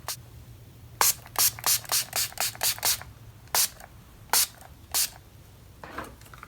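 A makeup setting spray bottle is pumped about a dozen times in quick bursts, each a short misty hiss, first rapidly then more spaced out.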